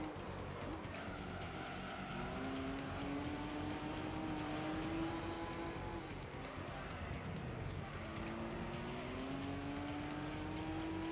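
A race car in Gran Turismo 3 spinning out, with a rising and falling engine whine and a sliding tire squeal, fairly quiet, with game sounds underneath.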